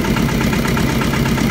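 Boat engine running steadily on a river in rural Vietnam, a continuous droning rumble with even low throb, close and loud throughout with no voices.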